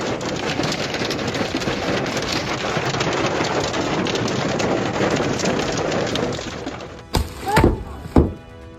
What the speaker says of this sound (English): The harsh cracking sound of hailstones falling continuously said it all.